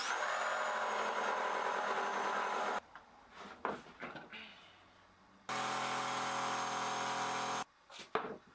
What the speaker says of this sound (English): I did the first few cuts quite a ways away from the line, just to make sure I remember how to cut reasonably straight with a jigsaw.